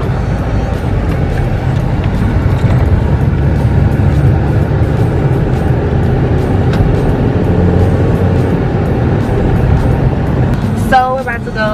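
A car driving slowly on a low speed-limit road, a steady low road and engine rumble running throughout at even loudness, with a brief higher whine or squeak near the end.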